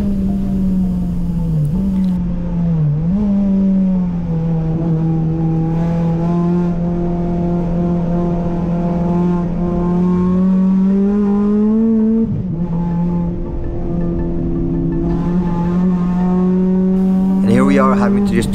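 A race car with a loud, sustained engine drone laps the Grand Bend Motorplex modified layout, heard from on board. The pitch holds steady with brief dips and recoveries at lifts and shifts.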